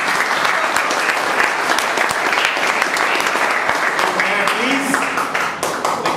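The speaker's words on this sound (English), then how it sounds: "clapping is good for health" A room full of club members applauds at a speaking meeting, sustained dense clapping at an even loud level that tapers slightly near the end, with a faint voice underneath.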